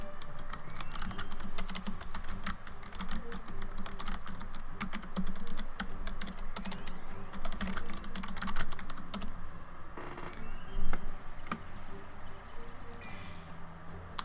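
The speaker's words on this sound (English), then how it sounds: "I got a new keyboard, by the way." Steady rapid clatter of typing on a new computer keyboard, continuous clicks running throughout at close range with a low background hum and no voices.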